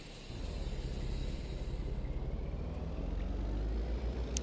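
Kenworth W900 truck engine in the video game American Truck Simulator, a steady low diesel rumble with a pulsing throb that builds slightly after a quiet start and carries on alone with no talking.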